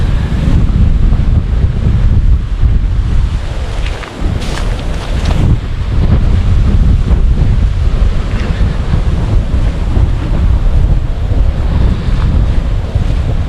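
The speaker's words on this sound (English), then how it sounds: "Wasn't much wind down at the Yurt, but up on the hill there is." Loud, continuous wind buffets the microphone on a hilltop on an Iowa goat farm in January, a dense low rumble with gusty swells throughout and no talking.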